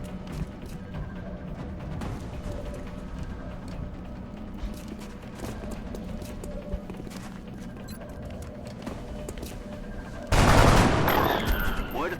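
Gunfire in the XCOM: Enemy Within video game, a sustained crackling burst of shots under a steady game soundscape, with a louder, denser blast near the end and no talk.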